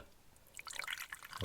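Raspberry drink pours from a can into a glass, a faint fizzy trickle and splashing that builds through the second half, quiet and close with no talk.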